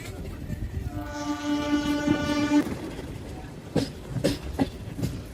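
A MEMU passenger train on the Nellore to Sullurupeta line sounds a sustained, loud horn for about two seconds, then rolls past with rhythmic clattering and wheel knocks on the rails nearby.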